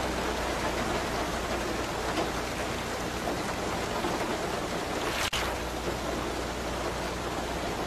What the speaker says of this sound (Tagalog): palalaki kasi ang patak ng ulan ngayon